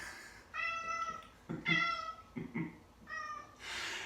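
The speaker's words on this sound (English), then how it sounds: "When my feisty cat Indy misbehaves" A feisty cat meows three times in drawn-out, tonal cries, close and fairly loud, with short pauses and a few soft thumps between them, then a burst of hiss-like noise at the end.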